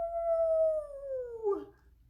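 A voice imitates a Bigfoot howl with a single sustained, falling wail that slides downward before cutting off, close and clear with no other sound.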